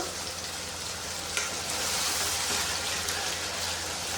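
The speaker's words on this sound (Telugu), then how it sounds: "మసాలా ఇందులో వేసేస్తే బాగా వేగాలండి పచ్చివాసన అంతా పోయే వరకు" Masala spices (coriander seeds, cinnamon, cloves, cardamom) frying in a pan for a homemade fish curry: a steady, close hiss-and-crackle sizzle with no pauses and a couple of small pops.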